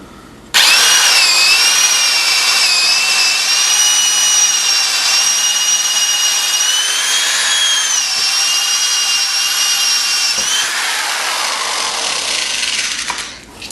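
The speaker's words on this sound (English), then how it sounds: "So let's go ahead and make our first cut and drill." A loud, high-pitched whine of a power tool cutting and drilling wood for N-scale model railway benchwork runs continuously for over ten seconds, steady with slight pitch wavering, then cuts off abruptly.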